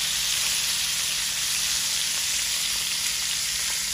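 River fish frying in a pan with one side already browned, giving a steady, loud, close sizzle with a faint low hum underneath and no talking.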